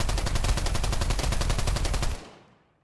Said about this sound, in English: I'm gonna shoot bullets in the air, right?